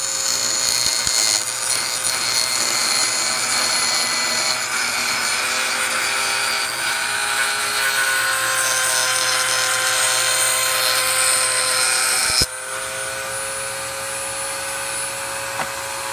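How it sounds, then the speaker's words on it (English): Small Dremel with an eighth-inch shaper bit shaping wooden push block handles, a loud, steady high-pitched whine with grinding wood noise that drops a little in level near the end, with no talking. "I've got my small Dremel shaper bit here, and I'm going to put a shape down along the side of the handles."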